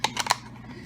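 Three quick scraping cuts as a knife saws into a cardboard paper towel roll, each short stroke close and distinct, followed by quiet.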